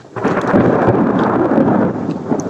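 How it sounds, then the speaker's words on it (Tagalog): Steady low rumbling roar fills the whole stretch, broad and continuous like distant thunder rolling, with a hiss of wind or rain over it. "Medyo kumukulog na."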